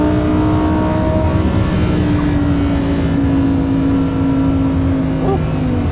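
Lamborghini Huracán Performante engine driving at the Nürburgring, a loud, steady mid-pitched drone holding near-constant revs with slight pitch drift, close and continuous, with a person talking over it.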